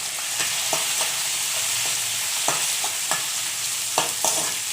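Green chillies sizzle and fry in a hot pan while cooking semiya upma, a steady bright crackle with a few sharp stirring knocks and scrapes scattered through it, close and alone with no talking.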